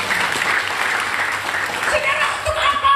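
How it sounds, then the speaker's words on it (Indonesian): A church congregation at a Sunday worship service breaks into applause, a loud, sustained patter of many hands clapping with a few chuckles mixed in. "Tepuk tangan, saudara."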